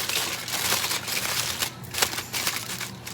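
Aluminum foil being crinkled and folded around beets for roasting, a dense crackly rustle that continues close up through the whole stretch with no voices.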